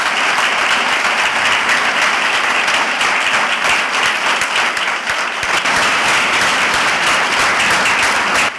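Dense, sustained applause from a large crowd in tribute to a late stage artist. The clapping is loud and steady from start to finish with no speech over it.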